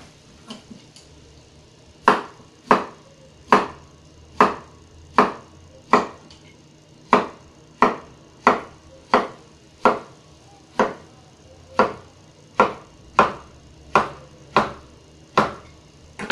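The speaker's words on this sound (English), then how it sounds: "First, I'll cut the plantain." A knife cuts through plantain on a board for Bahamian peas soup and stuffed dumplings, about twenty crisp, evenly spaced chops close by, alone without talk.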